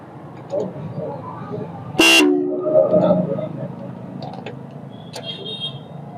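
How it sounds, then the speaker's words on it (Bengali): A short, loud car horn honk sounds once at a driving school in Sylhet, tapped to check the battery's electrical supply, with people talking around it. "ভাই ছোট করে হর্ন বাজাও"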